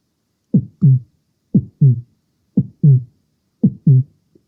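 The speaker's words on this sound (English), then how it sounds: "That's my heartbeat sound" A slow heartbeat thumps in four clear double beats, each a low lub-dub pair, separated by silence.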